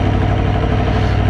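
An Aprilia Tuono V4 1100 RR motorcycle with stock exhaust rumbles steadily at low revs, close by, with a deep, even throb.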